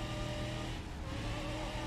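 A car engine revving hard with wheels spinning in fourth gear in BeamNG.drive, a steady dense roar holding at constant loudness throughout.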